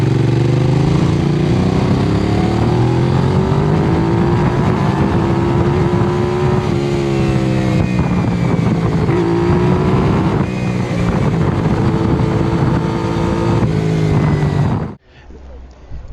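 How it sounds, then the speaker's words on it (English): Benelli 752S motorcycle engine and exhaust running steadily and loud, with rising and falling rev sweeps throughout before cutting off abruptly near the end. "It's got a great air intake sound also, so it gives a good overall sound for the bike."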